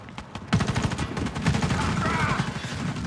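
Rapid bursts of gunfire in the video game Warface on Nintendo Switch, a dense, steady rattle of repeated shots that carries on for about two and a half seconds after a short quieter lead-in.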